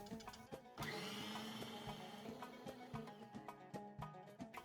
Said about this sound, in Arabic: هلا بدنا نضيف التلج آخر تربية صغيرة على الخلاط.